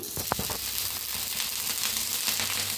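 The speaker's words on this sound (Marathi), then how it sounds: "तेल ओतल्यावर ओतायचं बघा थोडंसं पाणी" Water poured onto a hot, oiled iron griddle (tava) hisses in a steady, close sizzle, with a sharp burst near the start settling into continuous crackling frying noise, no talk over it.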